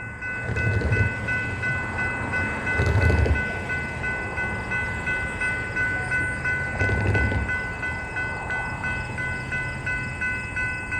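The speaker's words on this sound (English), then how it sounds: "we got a CPKC eastbound train coming down the line." A CPKC eastbound freight train rumbles steadily past nearby, with a continuous low roar of rolling cars and periodic heavier surges of clatter.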